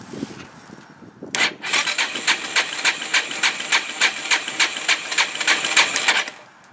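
A 4-stroke dirt bike engine cranks during a compression test: a steady, rhythmic chugging of about two strokes per second runs for roughly five seconds after a short lead-in, then stops.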